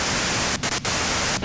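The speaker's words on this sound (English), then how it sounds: "you can do it through the white noise" Hissing radio static in the video game Disco Elysium, a steady loud wash of white noise broken by a few abrupt brief dropouts.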